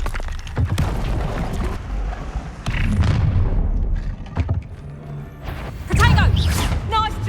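Spell explosions from the Confringo curse in Hogwarts Legacy burst out in several loud booming crashes spread across the stretch, with a player's voice shouting over the game action.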